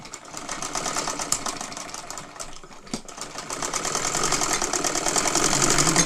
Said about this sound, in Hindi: सविता जो है ये कपड़ा सिला रहा है।